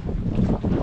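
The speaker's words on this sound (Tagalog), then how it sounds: "Grabe, sobrang hangin dito." Strong wind gusts across a seaside boat-building site, a brief, loud, rumbling buffet of air against the microphone.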